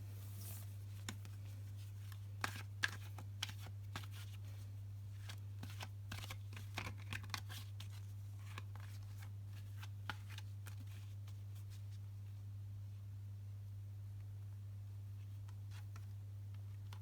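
Tarot cards being shuffled by hand, a series of quiet riffling and flicking bursts that cluster early and thin out later, set against a steady low electrical hum.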